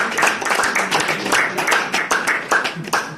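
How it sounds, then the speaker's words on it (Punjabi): Audience applause at a Punjabi literary award ceremony, many hands clapping in a dense, steady patter with sharp individual claps standing out throughout. "ਬਜਾਓ ਜੋਰ ਦੀ ਤਾਲੀ"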